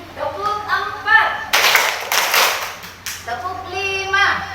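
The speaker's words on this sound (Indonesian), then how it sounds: "Tepuk 4." Pupils in a classroom clap together in a rhythmic pattern of four on cue during a teaching-practice lesson, a dense burst of hand claps in the middle, framed before and after by a speaking voice.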